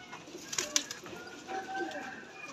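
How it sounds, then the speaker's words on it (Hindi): Soft coos and brief bird calls from red racing pigeons sound close by, with a light flutter of wings and faint ambient noise. "ये लाल बड़ा प्यारा कबूतर है"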